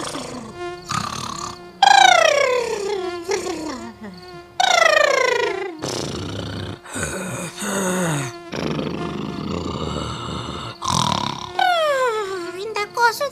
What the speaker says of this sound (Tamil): இந்த கொசு தொல்லை வேற டெய்லிக்கும்.